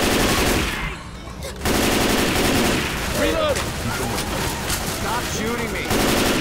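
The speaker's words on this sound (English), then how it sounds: "Stop shooting me." Rapid automatic gunfire from Left 4 Dead 2, played in the DeathCraft custom campaign's Lava Lake Ravine map, keeps up a dense, nearly continuous barrage, with game voices and a player talking over it.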